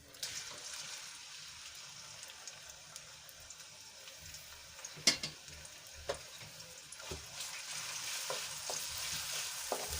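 Chopped onions are sautéed in hot oil with asafoetida in a pan, giving a faint, continuous sizzle with occasional soft scraping and ticks from stirring.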